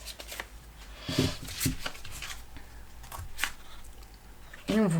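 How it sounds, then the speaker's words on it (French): Tarot cards being drawn and shuffled from a deck, with soft papery flicks and rustles near and quiet, under a speaking voice. "Je vais prendre une autre carte"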